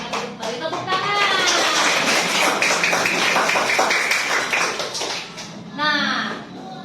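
A classroom of students claps together in a dense burst that lasts several seconds, with voices mixed in at the start and the end.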